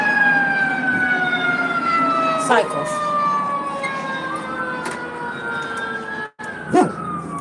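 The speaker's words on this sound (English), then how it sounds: "that's a fire truck" A fire truck siren wails steadily with sweeping, rising and falling tones, loud and close, while people talk over it.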